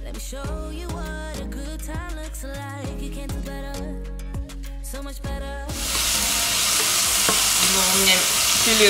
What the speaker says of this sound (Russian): у меня филешка жарится